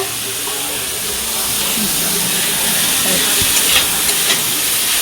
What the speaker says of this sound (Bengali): ভাজা ভাজা হয়ে এসছে।